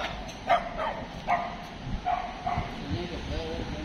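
Two dogs of the same size bark in short yips, a few evenly spaced barks from moderately close, with someone talking over them throughout.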